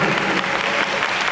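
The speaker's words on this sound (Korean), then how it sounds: "박수 좀 쳐라 인간들아." Audience applause at the Black Desert FESTA 2023 Calpheon banquet: a thick, sustained patter of clapping from a large crowd, steady and loud throughout, with some voices underneath.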